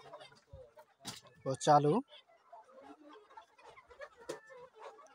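Native laying hens make lively clucks and one short, loud, drawn-out call near the middle, scattered among quiet farmyard sounds while a person speaks briefly.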